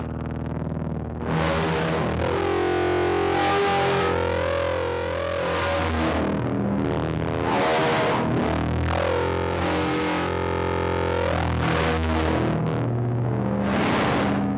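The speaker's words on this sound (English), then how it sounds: "Using the light sensor on the third eye helped to create some really gritty synth sounds like this." A gritty, distorted synth driven by the Pedal Brainz light sensor drones continuously, its pitch sweeping and warbling up and down in swells, loud and close for about fifteen seconds without any voices.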